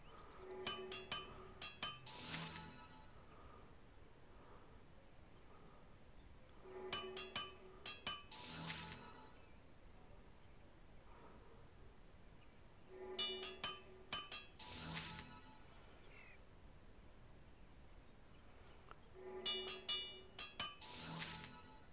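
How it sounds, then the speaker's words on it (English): Hammering on an anvil in a video game: metallic clinking strikes arrive in clusters of several ringing hits, each burst separated by a few seconds of quiet, repeating four times at moderate loudness. "I like the anvil, I like the hammering, I like the sound."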